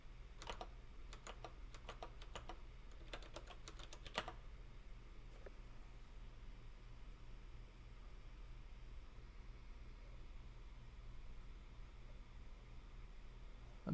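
Computer keyboard typing during a capture-the-flag coding session: a few quick bursts of keystrokes in the first four seconds, fairly faint over steady low background hum, then only the hum.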